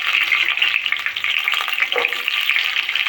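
Whole shallots sizzle and fry in hot oil with fenugreek and curry leaves, a steady, close crackling hiss for a few seconds with no talking.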